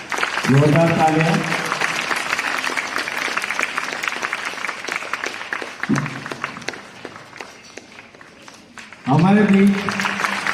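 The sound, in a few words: loud applause at a ceremony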